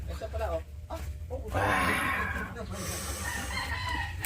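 A chicken clucks and crows nearby amid excited talking and laughter, its calls breaking through the voices.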